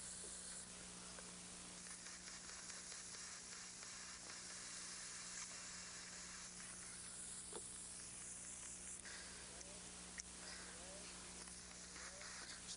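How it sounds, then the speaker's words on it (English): Water is pushed through an airbrush to flush out leftover paint, producing a steady, close hiss of spray that runs continuously with small fluctuations and occasional faint clicks. "running some water through your airbrush"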